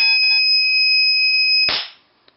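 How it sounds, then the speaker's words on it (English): A small Arduino Uno circuit emits a steady, loud, high-pitched electronic beep that sounds continuously for about 1.7 seconds, then cuts off with a sharp click, followed by near silence and one faint tick. "why does it not pick up on the beeping sound?"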